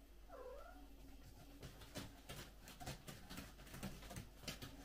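Indoors, a cat lets out a faint, brief yowling meow near the start, followed by quiet tapping and rustling noises under a low steady hum.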